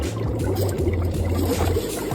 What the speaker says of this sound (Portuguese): Isso é o que acontece quando você coloca gelo seco na água.